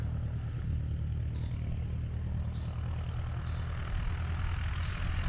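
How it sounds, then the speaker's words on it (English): A light propeller aircraft coming in to land at a small countryside airfield, heard as a faint, steady low droning hum from a distance with no talking. "There's one coming into land now."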